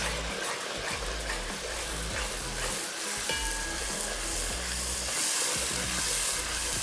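Tomato puree is cooked into dal makhani in a hot pan, producing a loud, continuous sizzle with bubbling spatters and light stirring scrapes, no voices over it.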